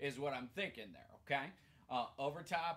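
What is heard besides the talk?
None of the usual background noises is heard.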